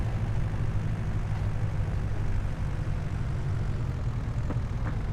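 A Fendt tractor engine idles steadily nearby, a deep throaty low rumble with heavy compression, constant and alone without voices.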